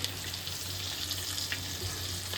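Masala and ingredients fry in hot oil in a home kitchen pan, a steady, close sizzling hiss with a low hum underneath and no voices.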